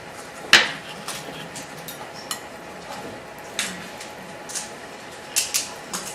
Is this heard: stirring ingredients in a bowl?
yes